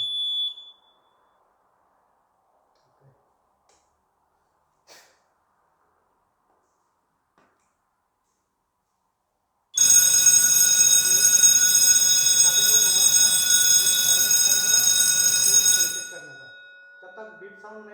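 A fire alarm panel sounds during a fire alarm test with a call point. A loud, steady, piercing alarm tone blares for about six seconds after a long quiet stretch with faint knocks, then stops abruptly.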